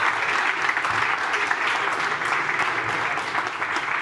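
A hall of event participants applauds continuously at a Bratislava climate hackathon as the jury leaves for deliberation. The clapping is dense and steady, with faint voices mixed in.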